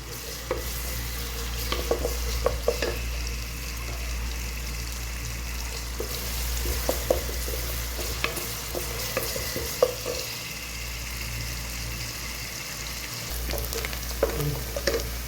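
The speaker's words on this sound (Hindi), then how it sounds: "हल्के हल्के हम प्याज को करेंगे शैलो फ्राई, बस शैलो फ्राई करने हैं" Steady frying sizzle of onions shallow-frying in a pan, with occasional stirring scrapes and small crackles, continuous and fairly close throughout.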